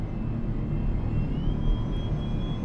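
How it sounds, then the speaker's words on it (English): Three electric motors of a Scania 45S electric truck in Euro Truck Simulator 2 pulling away, a thin steady whine climbing in pitch over a loud, continuous low road rumble, with no voices. "Those 3 electric motors whirring into action."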